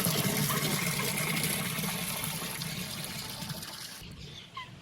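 Farm animals drinking water from a trough in a village yard, with steady sloshing, gushing water and lapping noises close by for several seconds before it quickly fades.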